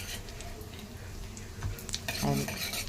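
Dried coconut frying in ghee, a low sizzle with clinks and scrapes of a spoon against the pan as it is stirred.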